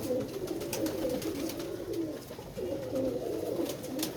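Pigeon cooing in repeated low, throaty phrases, close and fairly quiet, with almost no talk around it.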